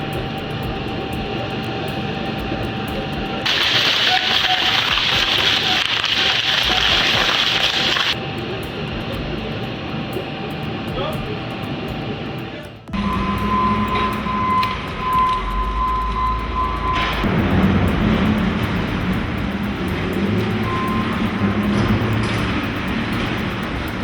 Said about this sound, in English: The shredder works through rotational inertia and synchronized cutting force, turning fragmented structures into uniform wood chips for industrial recycling